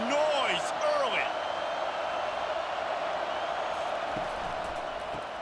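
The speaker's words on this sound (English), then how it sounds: "This crowd bringing the energy and noise early." Stadium crowd noise from a simulated Illinois vs Nebraska college football game in EA Sports College Football 25, a steady, dense roar of fans that holds at a constant level throughout, with a commentator's voice over it and a few brief whistle-like tones early on.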